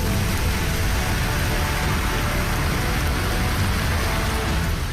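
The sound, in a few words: heavy rain and strong wind at Sursagar lake, Vadodara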